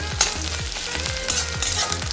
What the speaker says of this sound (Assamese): এতিয়া এইখিনি ভালদৰে ভাজি